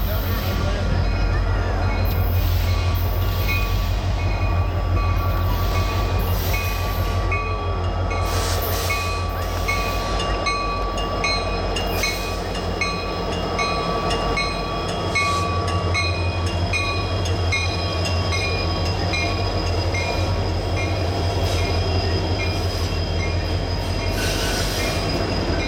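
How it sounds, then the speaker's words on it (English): A westbound Union Pacific train of mostly autoracks, pulled by two SD70M locomotives, rolls slowly past a pavilion at Rochelle, Illinois, as it diverges into a yard. A steady, loud low rumble carries on throughout, with wheel squeal and faint rail clatter above it. "A westbound UP train comprising of mostly autoracks slowly passes the pavilion"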